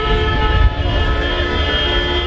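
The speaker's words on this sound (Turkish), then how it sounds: "konvoy oluşturup korna çalarak harekete geçti" Taxi drivers in a protest convoy in Istanbul sound their car horns, a loud, sustained blaring honk with layered tones, close by and unbroken.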